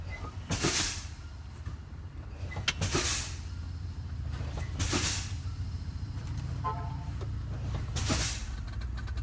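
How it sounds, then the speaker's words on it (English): Truck air brakes fanned in a cab, four sharp bursts of hissing air at roughly two-second intervals over a steady low engine idle. "Start fanning your brakes until they activate."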